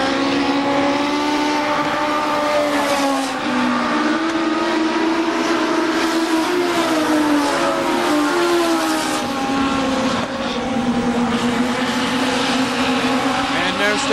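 Race cars roar around the KilKare Speedway oval, several engines layered in a loud, continuous drone whose pitch rises and falls as they run three wide and pass.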